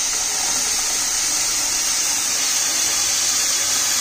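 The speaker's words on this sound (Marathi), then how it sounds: "चांगल्या रीतीने मिक्स करून घेतलेलं आहे आणि आता आपल्याला पाणी टाकायचं आहे" Water poured into a pot of barnyard millet rice (bhagar) for a fasting meal, a steady, dense rushing pour that holds at an even level for about four seconds without pause.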